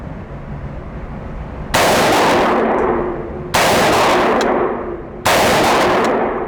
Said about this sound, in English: Bottom 2 squares, I'll shoot 3-shot groups, and we'll shoot a 10-shot group on the left circle.